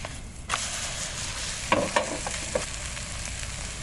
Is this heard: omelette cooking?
yes